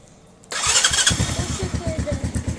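Motorcycle engine starting from cold, a sudden loud crank catching into a fast, steady close-up idle pulse.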